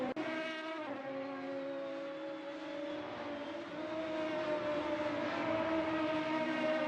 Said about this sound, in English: you got to love the sound these cars make.